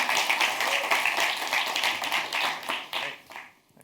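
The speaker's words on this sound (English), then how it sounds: "Can we welcome Marlinda, Colin, and Manny onto the stage?" An audience at a tech conference panel claps to welcome panelists onto the stage. The applause is dense and steady, then thins out and fades near the end.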